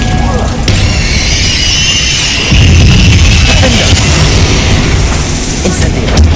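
Incendio fire spell cast in Hogwarts Legacy, a booming burst of magical flame with crashing impacts, loud and close amid dense game effects and background music.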